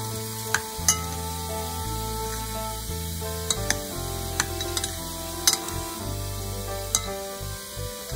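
Pieces of a boiled egg dish are stirred in a sizzling pan, with sharp clicks of the utensil against the pan scattered over a steady, close fry and no talk.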